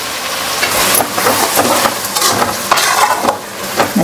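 Tomato puree poured into a hot pan for Mexican rice, giving a broad, loud sizzle and hiss with stirring scrapes, steady throughout with bursts as the liquid hits the oil.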